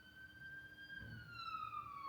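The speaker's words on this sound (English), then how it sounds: "let me just wait for these sirens to pass" Police siren passing outside a building, a faint wailing tone that slowly falls in pitch, distant and muffled.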